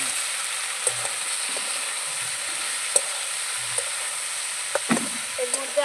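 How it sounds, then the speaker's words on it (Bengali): Spices with turmeric and salt sautéing in a pan in a rustic kitchen, a quiet, steady sizzle with a few soft utensil taps and scrapes, no speech. "দেব হলুদ লবণ ভালো করে সব একসঙ্গে কষাবো"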